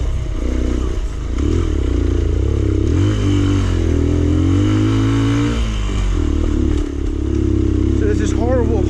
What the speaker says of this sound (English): I've just found out my wheel bearings have completely gone.